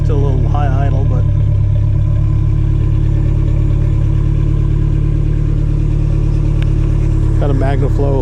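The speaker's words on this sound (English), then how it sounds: "when it comes down to a regular idle, it'll get a little cammy." A Toyota truck with a stage 2 engine and a MagnaFlow muffler idles close by with a loud, steady, deep low-end rumble, while a person talks over it at the start and the end.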